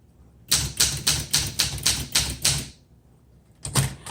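1974 Olympia SM8 typewriter keys strike in a quick, even run of about eight sharp clacks, a pause, then a couple more keystrokes, all close and crisp.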